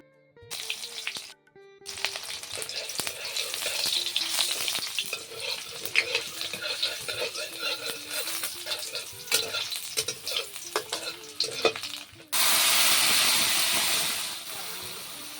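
Spices frying in a wok, stirred repeatedly, make close sizzling with frequent metallic scrapes and clatter, then a sudden loud, steady hiss of steam near the end.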